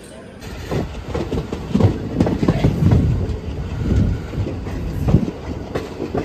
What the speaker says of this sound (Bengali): আমাদের ট্রেন এখন বুনিয়াদপুর ছাড়লো